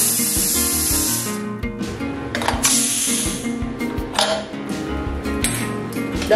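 A pressure cooker boiling lentils with cardamom and cinnamon for dal makhani lets off loud bursts of hissing steam, pulsing on and off with brief gaps and rattling between blasts.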